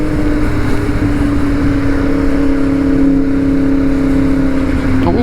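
A Yamaha MT-10 motorcycle's engine drones loudly through its exhaust, the pitch climbing steadily as it revs up, then snapping off sharply near the end as a gear change comes, all close and without talk.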